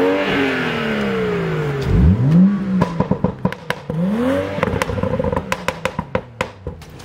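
A BMW F31 335i with a full active-flap exhaust revs hard twice, the engine note climbing and falling loudly and close, followed by a burst of sharp pops and crackles from the exhaust as it settles.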